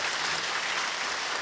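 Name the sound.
audience applause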